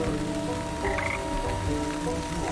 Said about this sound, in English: Frog! I need so many of you.